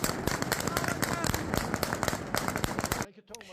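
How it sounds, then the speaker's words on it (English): Celebratory gunfire after a statue of al-Assad's brother on horseback is toppled: dense, rapid bursts of shots crackle continuously over crowd cheering and shouting, then cut off abruptly near the end. "It is celebrated with gunfire."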